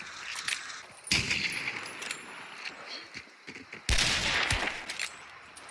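Two sharp, loud Springfield rifle shots ring out in the video game Hunt: Showdown, a few seconds apart, each with a reverberant tail, amid quieter footsteps and faint voices.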